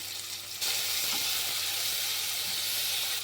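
Chopped tomatoes land in a hot pan of fried vegetables and set off a sudden loud, steady hiss of frying that keeps going close up with no talking.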